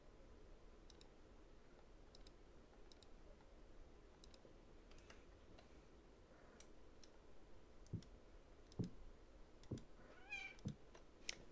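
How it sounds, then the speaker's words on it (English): A noisy pet cat meows faintly a few times behind steady keyboard typing and clicking, the short cries and taps growing more frequent toward the end. "have a noisy cat"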